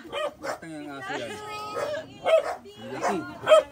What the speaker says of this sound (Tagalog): ang aso yan.